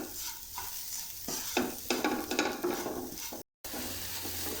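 Grated coconut is sautéed and stirred in a pan with a soft sizzle and repeated scraping strokes, then a brief dropout before the frying continues.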